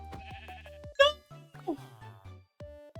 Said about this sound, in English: now I just need to lead out that sheep